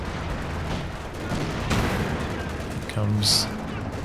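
A Panzer tank cannon fires a long-range shot in the Company of Heroes 2 real-time strategy battle, a sharp boom over ongoing gunfire and battle noise, with a commentator talking throughout.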